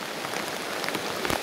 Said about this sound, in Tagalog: Yun ang dahilan kung bakit nabasa tayo ng ulan